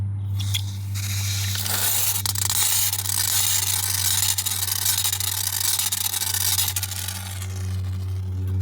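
A steady hissing spray from a pressurized can of foam being sprayed into a tire runs for several seconds over a low constant hum, then tapers off.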